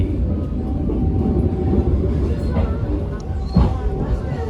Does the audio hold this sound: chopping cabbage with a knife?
no